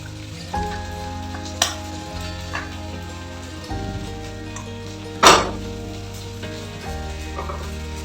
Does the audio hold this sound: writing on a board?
no